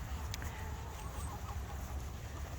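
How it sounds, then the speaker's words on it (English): Chickens cluck faintly on a sheep farm on shearing day, soft and distant against a steady background rumble, with no one speaking. "Alright, let's get some chickens eating here without me stepping on them"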